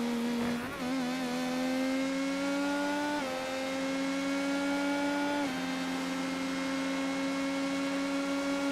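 An IndyCar race car engine in the iRacing video game screams at high revs on the front straightaway at the Daytona road course, a loud steady whine that steps up in pitch with each gear change.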